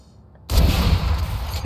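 Gunfire in the tactical shooter game Valorant: a sudden loud burst of shots erupts after a short quiet lead-in and keeps rattling steadily to the end.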